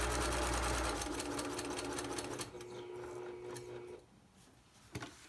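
Sewing machine stitching a fabric face mask, a loud fast motor-driven whir for about four seconds, then quieter, ending with a few brief clicks.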